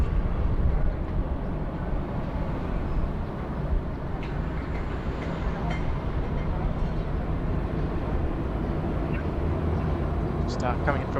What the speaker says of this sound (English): The Bhutan Airlines 319.